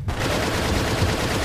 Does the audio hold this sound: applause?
no